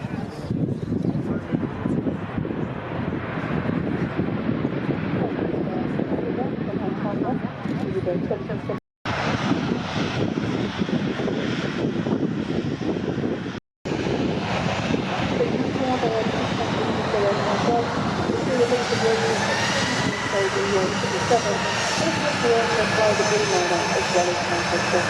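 Aircraft at the Manchester Airport runway visitor park, a steady broad jet engine roar with wind buffeting the microphone, swelling louder toward the end as the plane passes nearby, with two brief dropouts.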